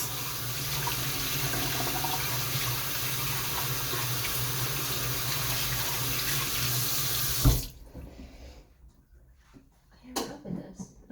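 A dish is rinsed under a running kitchen tap, a steady close splashing stream for most of the stretch that cuts off abruptly, followed by quiet handling clatter.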